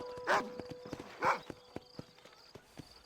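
Horse hooves in the video game Red Dead Redemption clop in a steady, moderately quiet rhythm, joined by two brief snorting or whinnying bursts early on, against soft ambient background.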